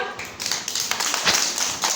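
Hands clap together during a children's classroom activity. There are several quick, close claps in an uneven rhythm over a couple of seconds.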